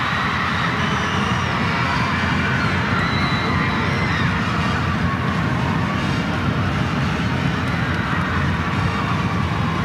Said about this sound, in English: You can hear the crowd erupt.